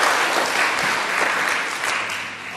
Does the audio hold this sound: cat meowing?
no